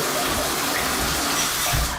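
Hot water running from a household tap during a home inspection, a steady continuous rush that stays close and fairly loud for the full stretch with no talk over it.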